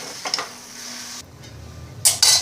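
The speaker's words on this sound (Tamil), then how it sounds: "அதை கொஞ்சம் விட்டுட்டு மிக்ஸ் பண்ணிவிட்டு ஒரு 2-3 நிமிஷம் மூடி வச்சுருங்க." Brinjal chops are stirred in a pan, a couple of scraping, sizzling strokes near the start and a louder pair of scrapes at the end, with a low hiss in between and no talking.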